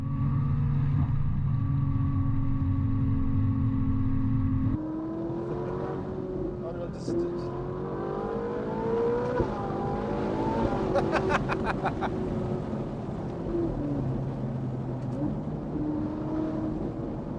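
A Ferrari 458 Italia fitted with a Novitec valved sport exhaust idles and rumbles steadily, then drives off with shifting engine tones. People talk over it throughout.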